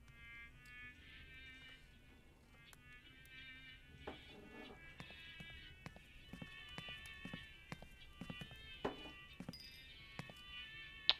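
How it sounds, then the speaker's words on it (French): Mechanical horses in the Syberia II video game clip-clop in a steady rhythm of hoof strikes that grows busier and louder, over a faint tonal hum. "Oh, des chevaux mécaniques."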